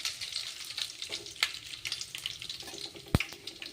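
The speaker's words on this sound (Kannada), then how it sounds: "ಗೋಲ್ಡನ್ ಕಲರ್ ಬರೋವರೆಗೂ ಫ್ರೈ ಆದವು." Oil frying steadily in a pan while chapati upma is cooked: a continuous soft sizzle and crackle throughout, with a sharp metallic clink near the end and no talking.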